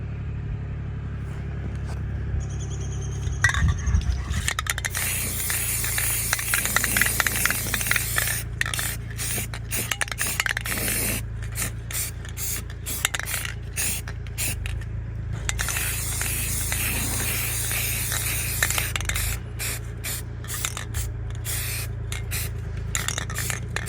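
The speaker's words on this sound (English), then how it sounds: "we're going to start out by spraying a coat of black all over it" Long hissing bursts of spray paint from an aerosol can, broken by short pauses, with a low steady hum running underneath.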